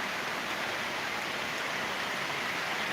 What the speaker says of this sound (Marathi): बाहेर पाऊस आहे जोरात खतरनाक पाऊस पडत आहे